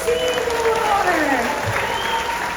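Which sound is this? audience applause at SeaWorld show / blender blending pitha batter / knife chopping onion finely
audience applause at SeaWorld show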